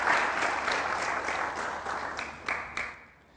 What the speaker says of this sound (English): Please, a round of applause for Mrs. Tilewa.